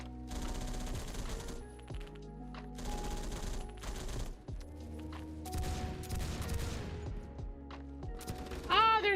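Rapid bursts of automatic gunfire from a gun being mag-dumped in the video game Phantom Forces, several long sustained strings of shots separated by brief pauses, loud and close with mechanical clicks between bursts.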